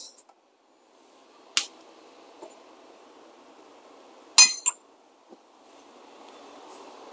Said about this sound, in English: let me get my shot glass.